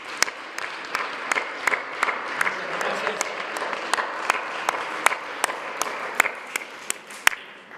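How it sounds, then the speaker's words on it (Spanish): Sparse applause from a studio audience welcoming guests at a financial talk show, a steady run of separate hand claps that stays moderately loud and holds an even pace throughout. "Les damos un aplauso a nuestros invitados."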